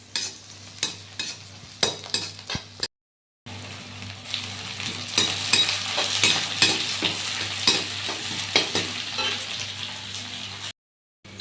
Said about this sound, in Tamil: வெங்காயம் லைட்டாக வதங்கிடுச்சு.